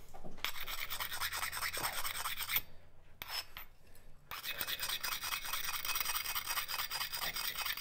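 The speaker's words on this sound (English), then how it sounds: "And now I'm gonna rub this off, watching for the colors to run." Rubbing scale off a freshly forged steel stonecutter's tool produces a close, rhythmic abrasive rasping in repeated strokes, pausing briefly midway before resuming.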